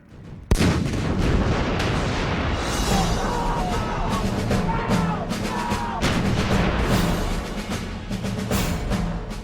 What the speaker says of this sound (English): British and American troops began a massive artillery barrage onto the Iraqi positions in front of them